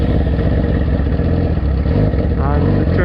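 A motorcycle engine starting with its electric starter and settling into a loud, close, steady idle rumble, with a brief rising rev near the end.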